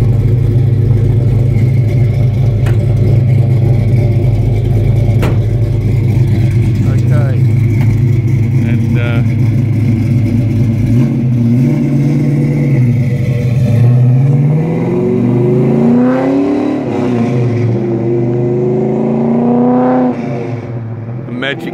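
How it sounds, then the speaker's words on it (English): A 1971 Ford XY GT Falcon replica's big engine idles with a loud, steady burble, then is revved several times in rising and falling sweeps, close and alone without talk. "Magic sound of a big Ford engine"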